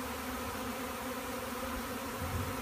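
A dense, steady buzzing hum of a honeybee swarm close by, continuous with no talking.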